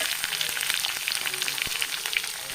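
Sliced onions fry with ginger and green chilli in hot oil: a dense, steady sizzle and crackle that fills the whole stretch, close and loud, with no voices.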